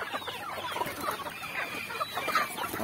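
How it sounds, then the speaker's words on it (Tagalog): Shamo chickens cluck repeatedly while being fed, a busy overlapping stream of short calls from several birds at close to moderate distance over a steady background. "Nakaka-enjoy talaga mga kanitib tuwing magpapakain ako ng manok."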